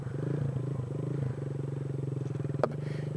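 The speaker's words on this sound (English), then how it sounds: "Giving it a little throttle here. Again, revving it up, not a lot." A motorcycle engine idles with a rapid, throbbing rumble, rising slightly as the throttle is blipped, with a brief clatter near the end.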